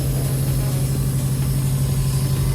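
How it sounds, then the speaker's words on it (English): A stock 2018 Subaru WRX STI turbocharged engine idles steadily up close, a deep, even rumble with a constant low drone and no talking. "And this is the engine."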